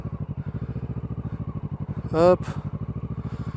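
Motorcycle engine chugs in a steady pulsing rhythm close by on a Belgian licence test practice course, while a person briefly calls out over it.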